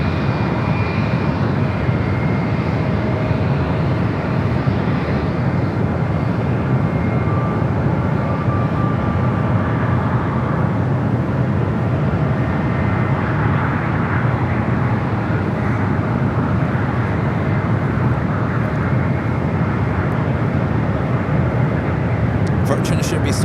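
A 25-year-old United Airlines Airbus A319 powers up for takeoff at San Francisco airport, a broad, loud engine roar rising and rumbling steadily from a distance, with a person talking over it throughout.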